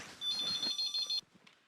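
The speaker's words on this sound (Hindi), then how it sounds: "लगता है उन्हीं का फोन है" A telephone rings indoors at a small shop in a TV comedy scene, a single bright electronic ring lasting about a second, fairly faint, followed by quiet rustling.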